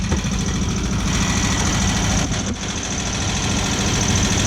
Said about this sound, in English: So it's still at a high idle.